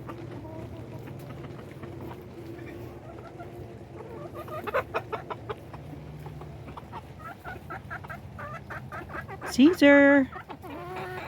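Rooster and chickens clucking outdoors on a rainy day, steady rain hiss underneath with bursts of clucks and a loud squawking call near the end; someone talks over them.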